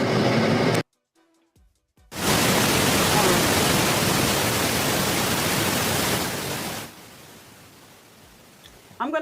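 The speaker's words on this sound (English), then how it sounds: "We're going to go turn on the white noise." Courtroom white-noise machine switched on during a sidebar conference: a loud, even broadband hiss that starts after a brief silence, holds steady for several seconds, then drops to a quieter hiss.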